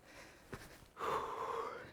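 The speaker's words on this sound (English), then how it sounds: "Sorry about my heavy breathing here." A hiker breathes heavily while climbing through desert terrain near a lava crater: a short, sharp intake followed by a long, wheezy exhale right at the microphone.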